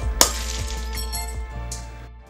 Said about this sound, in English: Let's break some glass.